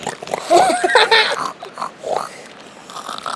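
A person imitates a pig, giving loud, close snorts and oinks in a quick series of nasal bursts that trail off into shorter grunts.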